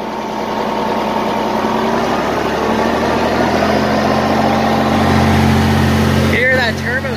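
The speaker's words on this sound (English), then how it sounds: "Hear that turbo spool up?" Oliver 1855 tractor from 1971 with its diesel engine running and the turbo spooling up, a steady close rumble that swells in pitch and loudness, with a brief clunk near the end.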